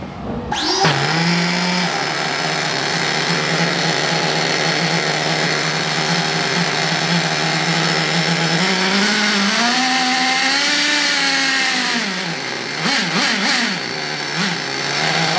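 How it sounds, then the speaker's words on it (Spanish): Small motor engine revved up from idle to accelerate, a loud, steady buzzing whine that rises and wavers in pitch, then drops and surges again in short blips near the end, close and without talk. "Vamos a darle un poquito más de ralentín, vamos a abrirle un poquito más para que acelere."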